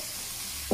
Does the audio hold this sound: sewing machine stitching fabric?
no